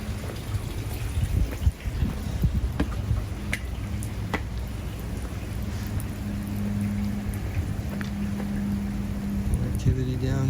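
Rain falling on the West Paseo, an outdoor walkway at a civic center mall, a continuous close hiss with scattered sharp drips and low rumble underneath.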